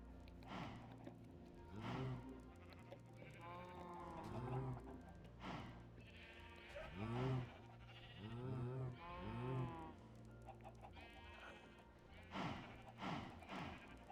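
Sheep in the Minecraft Bedrock video game bleat repeatedly in a series of wavering calls spread across the stretch, under a quiet low background hum.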